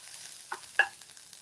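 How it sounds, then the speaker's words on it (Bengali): Onions fry lightly in a pan for fish cutlets, a faint, soft sizzle broken by two brief scraping knocks of stirring. "একটু পেঁয়াজটা ভেজে নিলে হবে কি একটু ফ্লেভারটা ভালো লাগবে, সেই জন্য একটু হালকা ভাজা"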